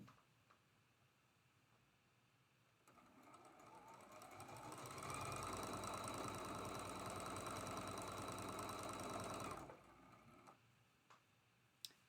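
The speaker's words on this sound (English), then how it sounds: "Match up those raw edges and sew that middle seam." A domestic sewing machine stitches the middle seam of red and blue quilt half-square triangles, starting up after a quiet pause and running steadily at a fast, even clatter for several seconds before stopping.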